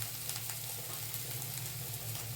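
Fresh curry leaves frying in hot oil for a steamed sago tiffin dish: a faint, steady, even sizzling hiss with no voices.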